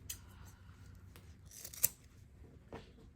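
Scissors snip the ribbon off a spring ribbon wreath. There is one sharp close cut among faint rustling and handling noises, in a quiet room without speech.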